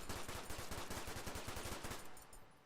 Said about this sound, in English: And if you fire in long bursts,